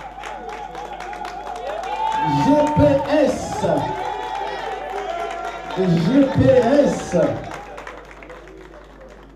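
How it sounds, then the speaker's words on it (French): Audience applause at the Diaspocam 2016 awards ceremony in two swelling bursts of clapping, with a presenter's voice speaking over and between them. "on va l'applaudir encore très fort s'il vous plaît mesdames et messieurs"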